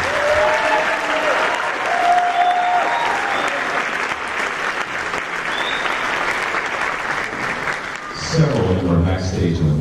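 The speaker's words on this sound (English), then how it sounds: "Would you stand up and let us applaud you?" A concert hall audience at an honor band concert applauds the band directors in sustained, even clapping that carries on for several seconds, with a brief burst of voices near the end.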